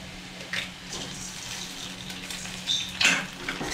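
Snack batter with an egg and cumin fries lightly in a pan, giving a steady soft sizzling hiss with a few faint metallic clinks and splashes near the end.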